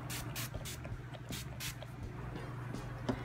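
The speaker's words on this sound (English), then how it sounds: "I'm gonna use the Mario Badescu spray to make sure all the powders melt with my skin." Several short hissing bursts of a Mario Badescu setting spray bottle sprayed over makeup, mostly in quick succession early on and one more near the end, over a steady low hum.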